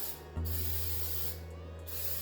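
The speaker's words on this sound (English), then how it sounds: "I spray it around, and I make sure that I get each side, and then I do the top" Spray paint or sealant hisses onto a glitter tumbler in two steady bursts, the first long and close and the second shorter, against a low electrical hum, with no talking.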